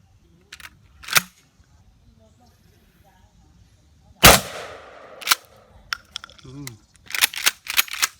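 A shotgun firing Sellier & Bellot 00 buckshot at a 15-metre target, with a single sharp, loud blast partway through, and smaller clicks and handling noises before and after.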